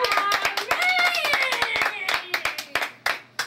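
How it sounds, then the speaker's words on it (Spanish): Scattered hand claps from a small group at a farewell gathering, sharp and close, under overlapping excited talk and voices. "Por favor, un aplauso."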